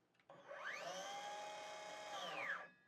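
A Skil PWR Core cordless 6 1/2-inch circular saw on a 2 amp-hour battery spins up with a high whine, runs briefly, then the electric brake pulls the blade to a quick stop, loud and close.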